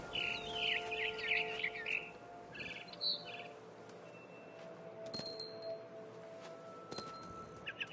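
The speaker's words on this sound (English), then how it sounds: "Then I heard chirping outside my window." Small bird chirps in What Remains of Edith Finch, a barn swallow near its nest by a window, coming as quick bursts of bright tweets over a faint hum, with a few sharp clinks later.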